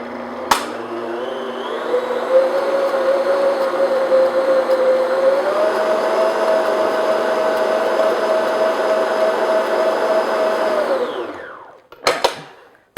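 An electric hand mixer beats food coloring into a sticky coconut marshmallow mixture. A steady whir holds for about ten seconds and rises slightly in pitch partway through, then the mixer stops and a couple of clicks and clatters follow.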